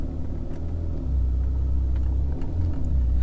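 A 2019 Ferrari Portofino engine rumbles low and steady while the car drives, with a slight rise in intensity partway through.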